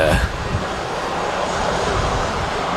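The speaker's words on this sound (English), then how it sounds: "Jet2 A321 heading off to Heraklion down in Greece." A Jet2 Airbus A321 departs Manchester Airport with a steady, loud roar of jet engines, a brief swell at the very start and no distinct speech.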